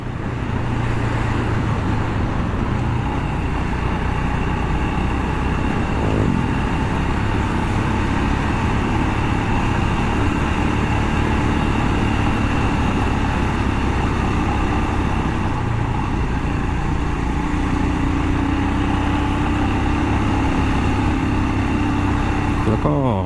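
A Royal Enfield Scram 411 motorcycle engine drones steadily at high revs climbing a steep mountain-ridge road, a constant loud roar with road and wind noise, never easing off.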